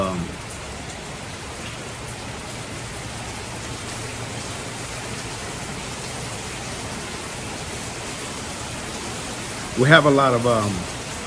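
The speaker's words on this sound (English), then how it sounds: "Kind of nice out here, it's raining. So that's what you hear in the background." Steady rain falls outdoors, a continuous even hiss of drops throughout, with a brief burst of a voice near the end.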